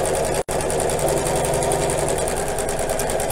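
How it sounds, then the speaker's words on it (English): A sewing machine stitches along the edge of a fabric square for a child's apron, running as a continuous close whirring hum with one brief stop near the start. "I'm sewing on the edge of the square"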